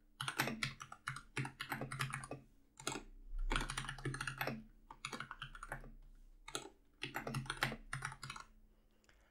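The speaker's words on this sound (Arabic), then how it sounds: "هلا إذا جيت لحتى أكتب أعمل ميكس بين العربي والإنجليزي" Close, steady typing on a computer keyboard while writing mixed Arabic and English text in the Emacs editor, with dense clattering keystroke bursts separated by brief pauses and no voices present.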